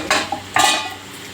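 Fried bitter gourd pieces tipped from a utensil into dal in a cooking pot, giving two soft clattering scrapes of metal against the pot with a faint wet slide, close and alone without talk.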